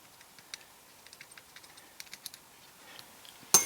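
A tool scratches and scrapes at the circuit board of an AstroAI WH5000A multimeter in a run of quiet, irregular ticks and scrapes, ending in a louder sudden clatter.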